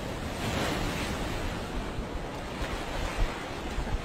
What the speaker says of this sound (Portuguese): Olha a onda agora, Rodando.